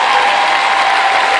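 A concert crowd at a show in Padua applauds loudly and densely, a brief unbroken burst of clapping and cheering.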